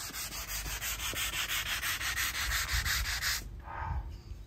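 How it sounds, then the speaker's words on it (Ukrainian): Coarse sandpaper rubs back and forth over wood, a kitchen cabinet front or bottle, in fast, even rhythmic strokes, loud and close, then stops abruptly near the end, leaving quiet room noise. "Шліфунемо ми цю роботу і цю бутилочку."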